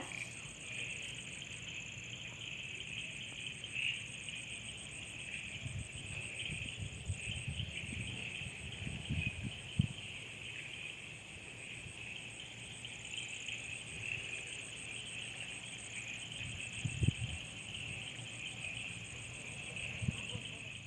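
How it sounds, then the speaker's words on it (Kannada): Steady high-pitched cricket chirring fills the rainy-season night air, with faint rustles and a few soft low thumps underneath. "ಆ ಜೀರುಂಡೆ ಸೌಂಡ್ ಕೇಳೋಕ್ಕೆ ಒಂಥರ ಚೆನ್ನಾಗಿ ಅನಿಸುತ್ತೆ"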